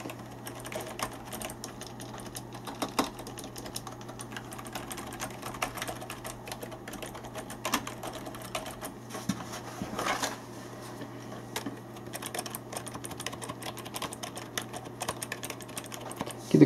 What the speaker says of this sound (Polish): posłuchajcie sobie jeszcze, jak ta klawiaturka pracuje.